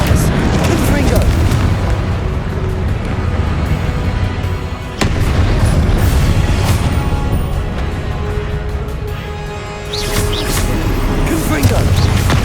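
Repeated Confringo blasts from Hogwarts Legacy on PS5 boom through a busy spell-casting battle. Loud explosive hits recur over a continuous rumble of combat, with a brief dip in the middle before the clash resumes.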